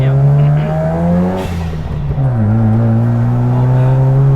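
Mazda FD RX7 with an extended port rotary engine revving, a loud buzzing drone that dips briefly at a shift and climbs again, heard close from the cabin.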